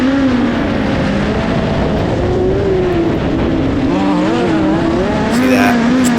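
A midget race car on a dirt track, its engine held loud and close at a steady, slightly wavering pitch. The note rises and falls gently with throttle for about six seconds, with a brief brighter burst near the end.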